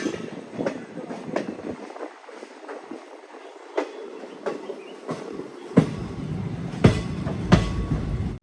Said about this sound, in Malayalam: എട്ട് 35 ട്രെയിൻ ഇതാ കപകപുത്തൂർ റെയിൽവേ സ്റ്റേഷനിലേക്ക് എത്തിക്കൊണ്ടിരിക്കുകയാണ്.